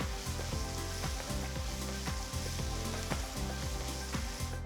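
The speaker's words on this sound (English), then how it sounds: "Sauté for about a minute" Chopped onion sautéing in hot oil with cumin, mustard seeds and hing for a ridge gourd curry, giving a steady, close sizzle and crackle with soft rhythmic stirring throughout.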